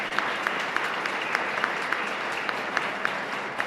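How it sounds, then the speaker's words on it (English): An audience claps at a school district candidate forum in a short, steady burst of applause from a modest indoor crowd, with a few sharper individual claps standing out. "Round of applause for them real quick."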